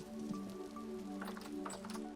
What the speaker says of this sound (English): Huh, it's raining.